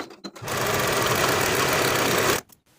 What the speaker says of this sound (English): Sew both side seams with a 5/8 inch seam allowance